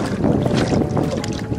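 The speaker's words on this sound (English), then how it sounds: "It's kind of windy up here." Wind gusting over a choppy lake while out in a small boat built from a single sheet, with buffeting microphone rumble and water slapping the hull, loud and close.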